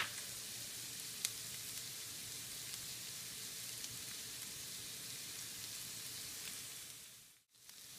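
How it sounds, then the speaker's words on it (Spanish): Onion browning in a pan, cooked until well charred, giving a faint, even sizzle with a fine crackle like light rain, steady throughout except one brief dip near the end. "Que ya la cebollita está dorándose."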